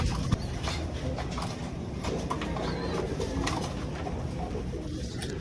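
Pigeons coo softly nearby over a steady background hiss, with a few light taps and flutters scattered through.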